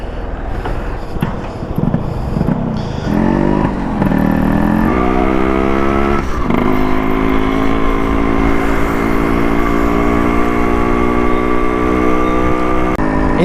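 A restored Yamaha RX100 motorcycle engine while riding, close and loud, with uneven revving at first before settling into a strong, steady climbing drone as the bike gets underway.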